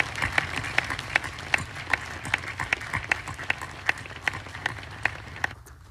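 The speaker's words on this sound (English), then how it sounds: "let's take a moment to give all those loved ones here a round of applause" An audience at an Army War College graduation ceremony applauds: a bed of crowd clapping with sharp, evenly spaced louder claps beating out a steady rhythm before it dies away.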